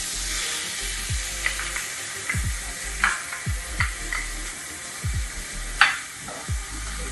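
Chicken keema frying and sizzling in a pan with caramelized onions, stirred by a spatula in steady repeated scrapes, close and continuous, with no talk.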